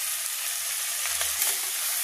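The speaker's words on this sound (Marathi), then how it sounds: "आता छान अशी फोडणी बसली. आता ही भाजी याच्यात टाकून" Ambadi (roselle) leaf greens dropped into a hot tempering of oil sizzle with a steady, close, broadband hiss that runs evenly for the whole moment, with no talking.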